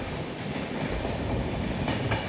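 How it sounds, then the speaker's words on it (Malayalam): A train from the Borivali side runs past on a Mumbai line as a loud, steady rumble with wheel clatter throughout, and no one speaks. "ഇത് ബൊറിവലി ഭാഗത്തുനിന്ന് വരുന്ന ട്രെയിനാണെന്ന് പറഞ്ഞില്ലേ."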